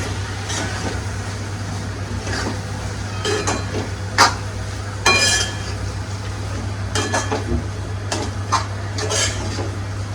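A spoon stirs chopped coriander into a pan of mashed eggplant bharit, giving soft intermittent scraping and clinks against the pan, with a few sharper knocks over a steady low hum and no speech.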